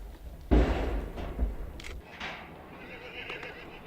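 A bay colt whinnies loudly for its mother from a horse trailer at a wild horse roundup, one long neigh, then fainter calls and an answering whinny further off as the trailer moves away.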